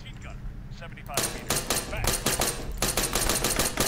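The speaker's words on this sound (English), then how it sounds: "Enemy fire!" Rapid automatic gunfire in a video game, a short pause followed by sustained loud bursts of shots in quick rhythm, with voices talking alongside.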